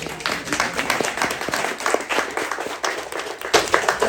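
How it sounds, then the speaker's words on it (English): Audience at a Lovelace Report 2025 presentation applauds survey participants, a steady burst of clapping at moderate distance with fluctuating intensity and no talking. "Can we just have a round of applause for these ladies?"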